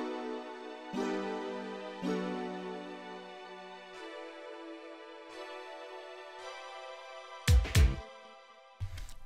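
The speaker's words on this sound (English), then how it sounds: "I went for a pad, which sounds stringy" A stringy synth pad from the Korg M1 hyper pad patch holds a series of sustained chords that change every second or two, with short thumping bursts near the end.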